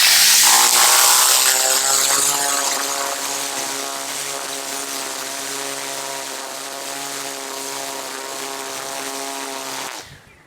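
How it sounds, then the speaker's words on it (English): A string trimmer fitted with an edger blade cuts grass, its engine whining at a loud, steady, high-revving pitch close by for about ten seconds before cutting out abruptly, with no talking. "now the wind from the actual string trimmer is already blowing the actual grass for me"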